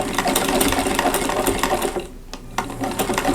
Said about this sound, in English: I'm going to go ahead and do some back stitching here